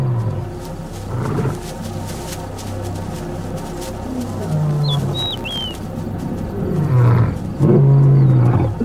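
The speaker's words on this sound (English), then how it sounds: "As the invaders close in, Hook and Ahab have to roar as loud as they can, intimidating them to avoid bloodshed." Two male lions in a crater roar loudly and close to intimidate approaching rival lions, deep repeated roaring bouts that build in force, with a few faint bird calls over them.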